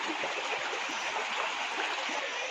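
A mountain river flows steadily on a trek in Uttarakhand, giving a continuous broad rushing and gurgling wash that stays constant and fairly close with no voices.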